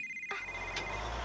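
A mobile phone in a Bob the Builder cartoon rings with a thin, steady electronic tone that starts abruptly and holds over a soft background hum.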